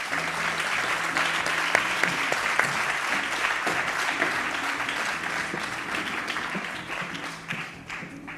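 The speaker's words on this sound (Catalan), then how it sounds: "Un fort aplaudiment per Narcís Moll Capó." A crowd applauds steadily, a thick wash of clapping that holds throughout and eases slightly toward the end.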